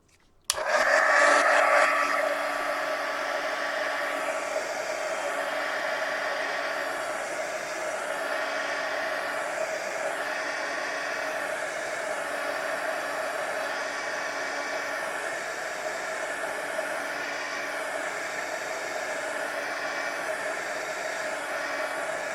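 Heat tool blowing a steady, loud stream of hot air to dry gesso on a handmade card, starting abruptly and holding a continuous whooshing drone for the full duration with no talk.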